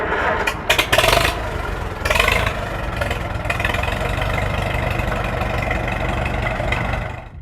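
A Farmall M tractor's 4-cylinder gas engine turns over with a few sharp bursts, catches and settles into a steady, loud idle that runs close up for the rest of the clip.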